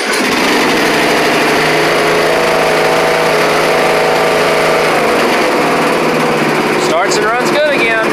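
Riding lawn mower fitted with a new starter solenoid, its small engine running loud and steady close by with a continuous high buzzing drone throughout.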